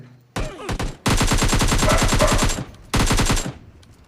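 Automatic gunfire from a bot in PUBG Mobile Lite: a short burst, then a long rapid stream of loud, close shots, a brief pause, and another shorter burst.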